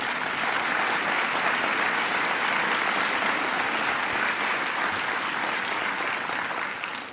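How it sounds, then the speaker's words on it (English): A conference audience gives a sustained round of applause, a dense, even wash of many hands clapping that holds steady and tapers slightly at the end. "Let's give her another round of applause"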